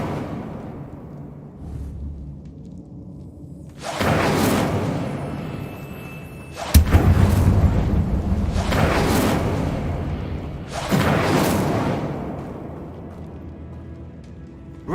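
Incendio fire spell cast in Hogwarts Legacy: repeated loud whooshing fiery bursts, four broad blasts each lasting about a second, with a sharp crack near the middle, over low game ambience.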